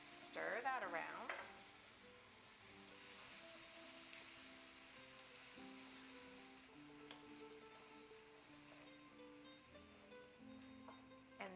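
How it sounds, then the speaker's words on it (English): A spoon stirs tomato sauce into a stuffed bell pepper filling in a pan, a soft continuous sizzle and scrape at low volume, with a brief tonal squeak near the start. "Stir that around."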